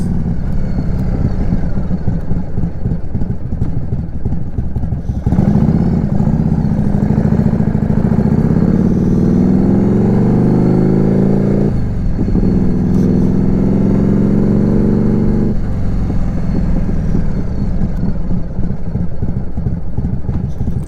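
A 1999 Harley-Davidson FLSTF with a full S&S hot setup and fresh wheel bearings out on the road, its engine droning loud and steady, rising in pitch under throttle then easing off, with no talk over it.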